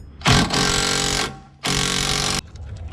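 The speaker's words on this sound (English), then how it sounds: "Gonna have to use a ratchet on that" A ratchet loosens the coilover nut on an MK4 Volkswagen Golf GTI suspension in two loud, buzzing bursts, each about a second long, separated by a short pause.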